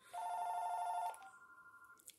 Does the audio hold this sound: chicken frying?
no